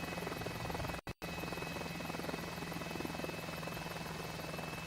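Steady, droning engine and rotor hum of an H125 helicopter in a flight simulator video game, continuous and close, broken by a brief dropout near the start.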